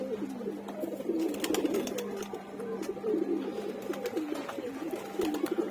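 Several pigeons coo in a loft with breeding cages, low throaty rolls overlapping continuously and repeating close by, with occasional light clicks and rustles and no talking.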